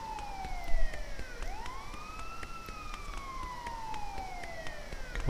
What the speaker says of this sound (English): What is with this stupid siren?